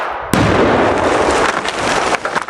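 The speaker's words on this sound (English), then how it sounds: "your television is just about to explode!" A television explodes with a sudden loud blast, then a dense roaring crackle that rolls on for about two seconds.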